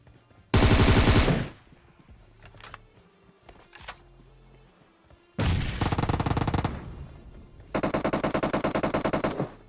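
Automatic gunfire in PUBG Mobile: three loud, rapid bursts of shots, the first and last lasting about two seconds each and the middle one longer, separated by quieter gaps with a few faint distant shots.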